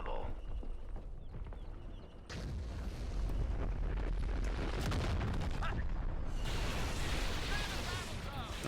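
Orbital bombardment in the Star Wars strategy game Fall of the Republic, with heavy booming blasts and rumbling explosions one after another, loud and dense, with a brief lull and then more crackling impacts.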